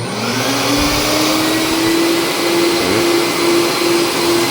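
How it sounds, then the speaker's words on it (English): A shop vac powered by an EcoFlow portable power station, used to clean upholstered car seats, drones loudly and steadily with a sustained whining motor hum and airy rush throughout. "It's connected to the shop vac."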